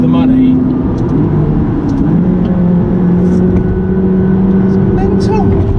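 McLaren 540C sports car engine droning steadily from inside the cabin, a continuous mid-level hum with some road noise, fairly loud and unbroken.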